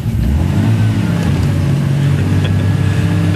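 A vehicle engine revs loudly and steadily under load after a wrong gear change while towing another vehicle, a deep continuous drone with rising and falling pitch close by.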